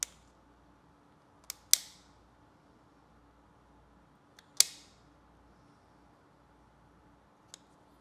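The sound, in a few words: dog nail trimmer clipping a dog's nails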